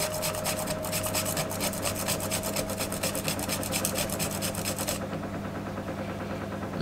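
Tonka bean spice rubbed against a small grater, a close rhythmic rasping of quick strokes that stops near the end over a faint steady hum.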